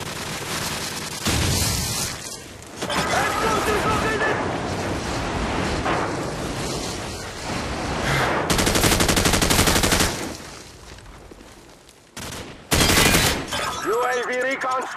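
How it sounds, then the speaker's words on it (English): Explosions and heavy gunfire from a Call of Duty 4 online match on the Crossfire map, dense bursts and booms throughout with a friendly airstrike called in, under intermittent voice chatter. "Friendly airstrike on the way!"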